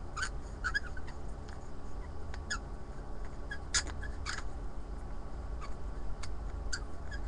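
A wooden bird puzzle piece squeaking as it is pushed through a tight fit: faint, scattered short squeaks and ticks spread irregularly over a quiet background.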